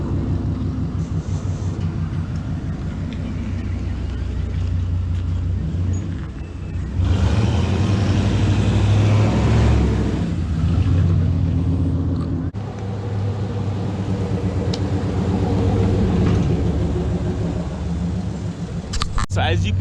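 A pickup truck with OEM leaf spring shackles and shock extenders drives over a bump, giving a steady loud low rumble with a heavier thump-and-surge in the middle, and voices talking over the engine.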